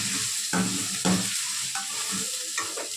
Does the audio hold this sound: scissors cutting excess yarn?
no